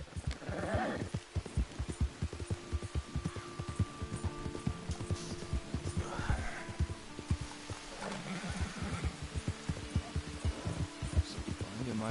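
A horse ridden in the video game Red Dead Redemption 2, its hooves drumming in a fast, steady gallop with snorts and a whinny, close and continuous throughout.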